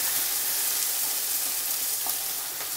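Green chilies and garlic fry together in hot oil, giving a dense, steady crackling sizzle that stays loud and close throughout.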